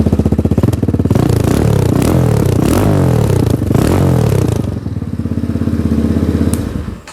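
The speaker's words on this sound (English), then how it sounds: "Let's see if I can get a good exhaust note." Loud 2023 X-Pro Titan DLX 250cc motorcycle engine revving up and down with a throaty, rumbling exhaust note, punctuated by clattering, then settling into a steady idle.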